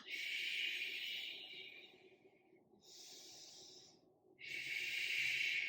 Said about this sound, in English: Take those big inhalations, get that oxygen flowing through.